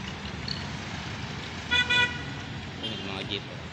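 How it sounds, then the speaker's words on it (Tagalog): Jeepneys and other traffic rumble along a busy road in Villamor, Pasay City, near Newport City, with a short car horn toot and a later fainter honk cutting through steady engine and road noise. "Yan, mga jeep."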